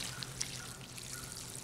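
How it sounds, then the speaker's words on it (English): Water poured low onto the soil around a tomato plant in a garden, a quiet steady trickle with a couple of faint drips, heard alone without talking. "You want to water low and you want to water deep."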